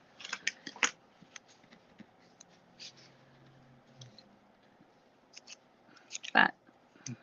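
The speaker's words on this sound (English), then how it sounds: "I'm going to cut it with my scissors" Scissors snip paper flowers for a handmade card in a few quiet, separate cuts with pauses between them, ending in one louder, sharper snip.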